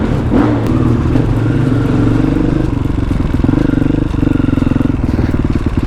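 A motorcycle engine revs and rumbles loudly and steadily up close on a road in the Black Hills, with throttle blips and a throbbing, pulsing idle throughout.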